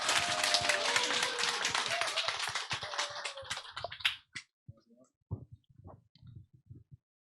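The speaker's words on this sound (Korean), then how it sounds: "박수로 맞이하겠습니다" Dense applause from an alumni gathering crowd welcomes a speaker to the stage, loud and sustained for about four seconds before quickly dying away to a few scattered claps and small noises; a voice calls out over the clapping.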